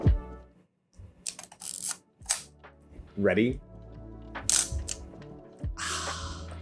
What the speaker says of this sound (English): So here is the sound of it.